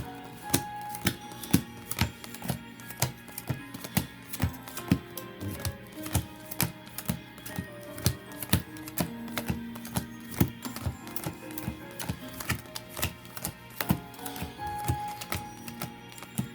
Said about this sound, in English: I'm going to go ahead and just do a quick shuffle.